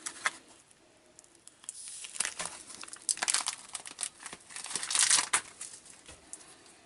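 Plastic packaging of an E-FAB hard hat emergency first aid kit is torn open, giving close crinkling and tearing bursts that come and go over about seven seconds, with no talking.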